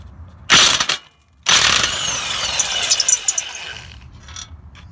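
A ratchet on a deep socket loosens an exhaust bolt during a flex pipe replacement on a Honda Pilot. Two loud, harsh mechanical bursts come close together, then a steadier rattling clatter continues, with no talk.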